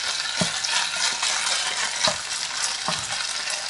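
Liver frying in oil in a pan, with a loud, steady close sizzle, oil spitting, and a few stirring knocks recurring about once a second.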